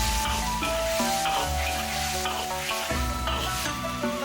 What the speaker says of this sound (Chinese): 一起翻炒均匀。